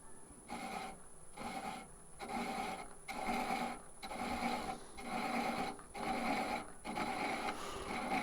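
Repeated rasping passes of an Ashley Iles thread chaser cutting threads into a wooden spindle on a lathe, steady rhythmic strokes roughly every half second, close and moderately loud with no talking.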